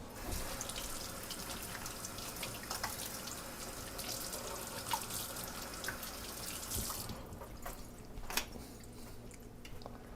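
Tap water runs steadily into a kitchen sink while peppers and green onions are rinsed, a soft continuous splash with small squishy handling sounds and occasional louder splashes, close but fairly quiet.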